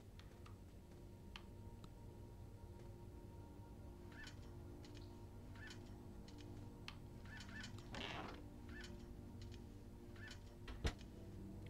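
Birds in an aviary inside the video game Fahrenheit: scattered soft chirps and clucking calls repeat over a steady low ambient hum, with a brief rustling burst and one sharp click near the end, no voices.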